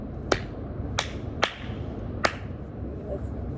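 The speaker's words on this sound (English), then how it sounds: "I can clap really loud." Four loud, sharp hand claps spaced unevenly over a few seconds, each a crisp crack standing out above a low background murmur, with the third and fourth a bit firmer than the first two.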